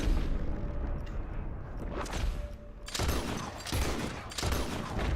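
Rifle gunfire in Red Dead Redemption 2 as shots are aimed at ropes: a burst of sharp reports around the three-second mark, then further loud cracks and booms over a noisy battle backdrop.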